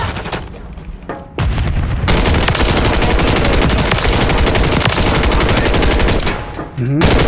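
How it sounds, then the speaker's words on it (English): Loud machine gun fire in the shooter Modern Warfare III: rapid sustained bursts that rattle almost nonstop for several seconds, with brief pauses, close and dominant over a faint voice. "Trying with this machine gun now."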